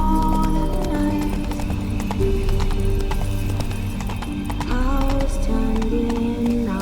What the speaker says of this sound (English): Horses must have gotten spooked.